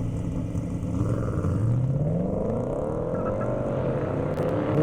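Ford Mustang GT350 and an older Boss 302 drag racing on an airstrip, engines revving up and climbing through the gears as they pull away, loud and sustained at mid distance.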